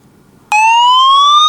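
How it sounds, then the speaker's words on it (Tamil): A Qubo 360 WiFi smart camera sounds its siren alarm, a sudden loud, sustained electronic wail that starts abruptly after a moment of near silence and holds steady. "அடுத்தது சைரன் கொடுக்க வைக்க முடியும்"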